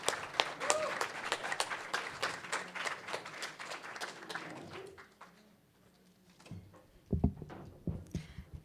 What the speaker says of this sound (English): Please join me in giving a huge round of applause to Kim.